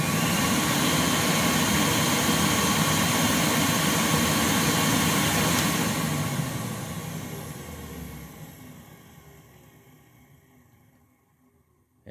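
A Rainbow D4C AquaMate vacuum cleaner motor runs at a loud, steady full roar, then winds down smoothly over several seconds, fading to near silence as it spins to a stop.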